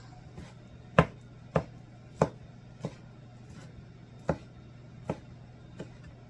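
Knife chopping taquito ingredients on a cutting board, about eight sharp, separate chops at an uneven, unhurried pace with pauses between them, close by over a low steady hum.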